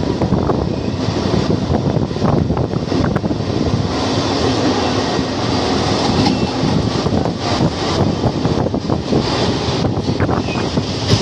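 Tatanagar MEMU special train pulling out of Sardiya station, a loud continuous rumble and clatter of wheels on rails with wind buffeting the microphone throughout.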